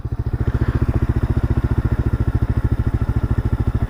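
Single-cylinder 1978 Kawasaki KL250 motorcycle engine idling near 1800 RPM after a new carburetor install, a loud close rhythmic thumping pulse, steady and even throughout with no talking.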